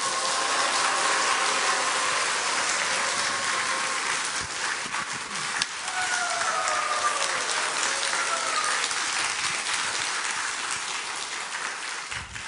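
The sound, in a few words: warm applause, cheering and foot stamping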